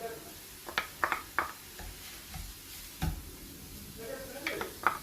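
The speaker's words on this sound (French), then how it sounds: "Donc là, on rajoute les courgettes." Courgettes tipped into a pan of sizzling carrots and stirred, a gentle frying hiss under scattered scraping clicks of the spoon against the pan, close by, with a brief voice between stirs.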